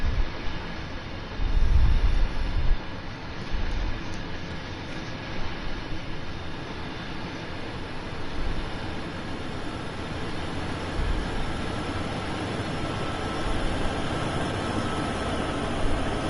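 A heavy freight train with NDPU locomotives rolls past on Sherman Hill in Train Sim World 2, a loud continuous rumble and clatter holding steady throughout with a brief heavier thump near the start.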